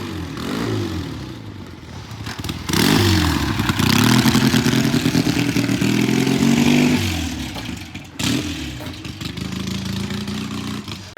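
A patina Tri 500 motorcycle out on a test ride around the block comes back and roars past nearby, its engine rising loud and revving hard before easing off, then building again, with no talk over it.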